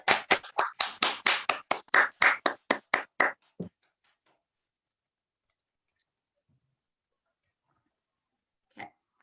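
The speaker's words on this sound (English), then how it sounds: "a massive, massive round of applause for Rachel" A small audience claps in a short burst of regular, sharp hand claps for a performer at a Winchester literary festival event, fading out after a few seconds, followed by near silence and one faint later clap.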